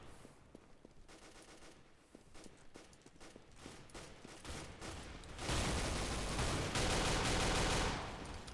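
Rapid gunfire bursts from the 2011 CS:GO alpha, including shotgun and pistol fire, crackling in sharp repeated shots that swell into a loud, dense sustained volley near the end.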